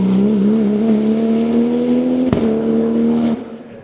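Porsche 997 GT2 race car climbing a mountain hill-climb course, its engine holding a loud, steady high-revving drone with one sharp crack partway through before the sound drops away.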